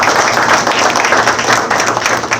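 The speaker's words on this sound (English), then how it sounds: "Please give them a round of applause." Audience at a mayor's meet-and-greet with local minority building contractors applauds board members, a loud, dense, continuous patter of clapping from a crowd that holds steady throughout.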